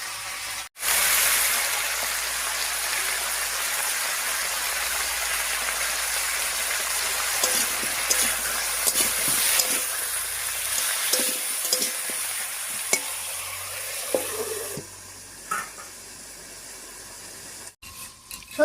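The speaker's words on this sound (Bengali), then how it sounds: "ফোড়নের উপরে সব সবজিগুলো দিয়ে একটু নাড়িয়ে নিয়েছি" Vegetables sizzle and fry in a pan over a spice tempering while being stirred, a steady close crackling hiss with scraping stir strokes, running continuously then easing near the end.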